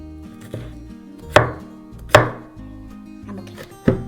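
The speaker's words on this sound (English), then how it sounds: "Now to cut these garlic cloves." Four heavy chops of a giant knife through garlic cloves on a cutting board, spaced irregularly and close, each a sharp thud over quiet background.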